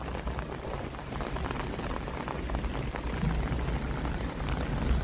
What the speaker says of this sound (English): Not this heavy rain, is it?